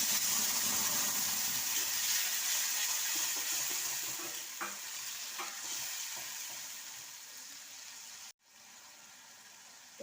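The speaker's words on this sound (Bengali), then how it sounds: "ফোড়নটা গরম হয়ে গেছে। এবার টমেটো, কাঁচা লঙ্কা, আদা দিয়ে যে পেস্ট করেছিলাম পেস্টটা দিয়ে দিলাম।" A paste of tomato, green chilli and ginger added to hot tempered oil for a soya kofta curry, a steady close sizzle of frying with light stirring clinks, gradually easing off.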